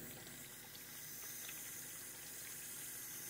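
A Samsung dishwasher fills with water, giving a steady, close hiss of rushing flow that holds at an even level throughout, with no voices.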